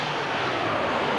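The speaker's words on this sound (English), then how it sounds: "we've got a fly past by the Navy" A Navy aircraft flypast over a stadium before an American football game, heard as a steady, continuous engine roar with broad rushing noise, loud and unbroken throughout.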